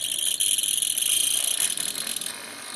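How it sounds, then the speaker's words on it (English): Old Airfix 6100 class Great Western Large Prairie model locomotive running noisily, a continuous high whirring, buzzing motor whine with a slight rattle, close by and fading near the end. "It is an Airfix 6100 class, Great Western Large Prairie, and you'll see that it's quite noisy."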